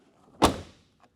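A GM pickup truck's sheet-metal door slammed shut, one loud close thud with a brief rattle, then a faint click a moment later.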